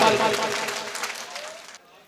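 Applause from the audience at a mushaira, an Urdu poetry gathering in Biswan, with dense clapping that starts loud and fades over about two seconds before stopping.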